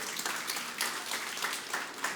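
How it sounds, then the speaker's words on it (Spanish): Congregation clapping during a church service, a faint, steady wash of applause with slight swells, heard from a distance and without voices on top. "Den un aplauso a Dios."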